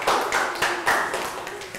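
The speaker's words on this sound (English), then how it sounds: "Round of applause for our two students." Short burst of classroom applause for two students, several small hands clapping in an uneven patter up close, a few louder claps standing out against a murmuring room.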